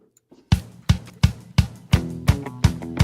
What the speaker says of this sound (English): what we're gonna do is we're gonna play this music